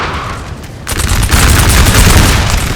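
Cannon and musket fire in a Napoleonic battle in the video game Napoleon Total War, with a dense, loud fusillade of overlapping shots and booms that swells sharply after a brief quieter start and rolls on continuously.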